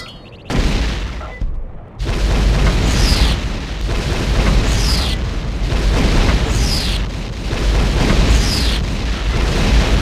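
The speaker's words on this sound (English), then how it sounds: "Scorpion missile launcher." Scorpion missile launcher fired repeatedly in Turok 2 online multiplayer, loud booming launches with whooshing rocket sounds recurring roughly every second and a half in a dense, continuous barrage.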